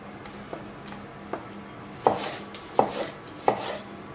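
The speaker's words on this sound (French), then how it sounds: "on va les couper en lamelles, on va les couper en fine lamelle" Knife slicing bell peppers into thin strips on a cutting board, a few faint taps and then three sharper, louder chops at a slow, uneven pace, close and with no talking.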